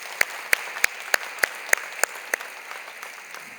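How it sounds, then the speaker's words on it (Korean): Students at a Bible college class gathering clap in a slow, even rhythm, about nine crisp, evenly spaced claps heard fairly close over a quiet room before fading into silence. "여러분을 위해서 박수 한번 그죠?"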